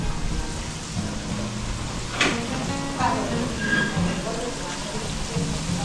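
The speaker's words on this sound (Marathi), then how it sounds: "ते बघ इथे तळत आहेत" Bengali khaja sweets fry in a vat of oil at a small sweets factory, a constant bubbling sizzle with a few clinks and scrapes over a busy workshop background.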